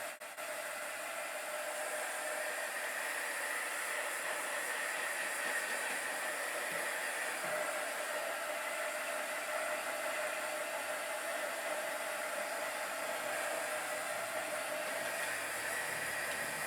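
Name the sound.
embossing heat gun blowing hot air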